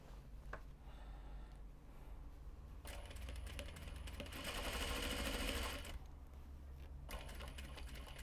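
A sewing machine stitches a seam on a knot bag in quiet, uneven bursts, with a longer run of rapid whirring in the middle and short starts and stops around it.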